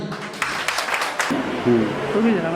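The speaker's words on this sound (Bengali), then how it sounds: "তার জন্য একটা করতালি" Crowd applause breaks out at an awards and discussion meeting honouring the year's best sellers, a dense burst of clapping lasting about a second before voices take over.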